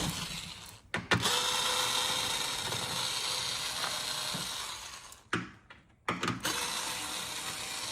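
A tool works out 7mm screws beneath a Corvette C8, giving long close-up whirring runs broken by short pauses and sharp clicks, with no talking.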